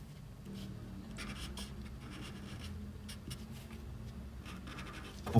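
Grey marker strokes colouring shading on a drawing, a soft continuous scratchy felt-tip rubbing across paper with brief pauses, close and quiet, ending in a small bump.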